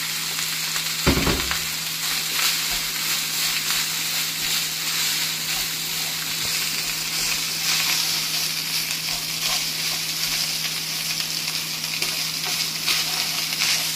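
Rice tipped into hot oil flavoured with aromatics sizzles and fries steadily in a pan, a loud continuous hiss with a short thump at the start as it goes in.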